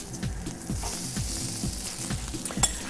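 French toast frying in a pan just after being flipped, a steady close sizzle running throughout with soft repeated scraping or stirring pulses and one brief clink near the end.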